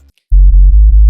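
An analog-style wavetable sub bass synth with overdrive and saturation and a boosted low end, loud and deep, hitting four sustained notes in quick succession after a short silence.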